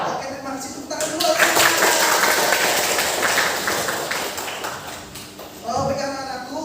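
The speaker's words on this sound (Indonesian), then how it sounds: "Tepuk tangan dulu." Schoolchildren clap their hands together in a classroom during an Indonesian language lesson. The applause runs for several seconds over the room's background noise, and a teacher's voice can be heard at the start and again at the end.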